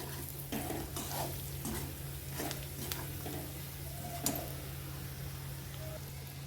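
Mutton masala spices stir-fried in oil, a soft steady sizzle with repeated spatula scrapes and clinks against the pan, faint and close with a low steady hum underneath.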